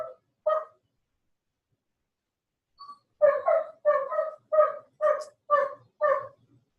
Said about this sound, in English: You can hear that barking in the background.